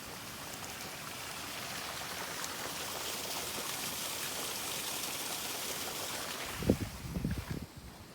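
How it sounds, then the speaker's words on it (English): Spring water trickles near Mount Hillaby in St. Joseph, Barbados, a faint continuous wash of flowing water heard from a distance, with a few brief rustling knocks near the end. "I could hear something like spring water or something."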